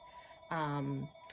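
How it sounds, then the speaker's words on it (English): A phone rings faintly in the background of a room, one short electronic ring tone of about half a second, heard alone without speech. "excuse the phone ringing in the background"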